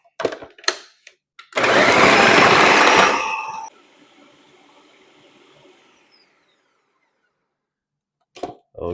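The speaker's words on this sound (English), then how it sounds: "Now we're going to blend." A kitchen blender whirs loudly for about two seconds while blending Jamaican jerk seasoning for jerk fish, then spins down and fades, with a few soft clicks before and after.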